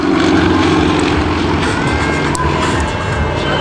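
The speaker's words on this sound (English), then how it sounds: "It's a big Genyad engine, over 400 horsepower, so very, very powerful" Powerful 400-plus horsepower engine of a Red Bull Matadors aerobatic plane during a display at Bournemouth Air Festival, a loud steady droning roar holding throughout without pause.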